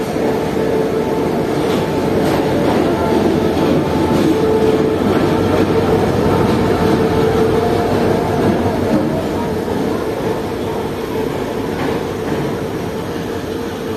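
A Green Line passenger train starts moving on Pakistan's iron suspension rail bridge, with a steady, loud rumble and faint rhythmic clatter of wheels that lasts throughout.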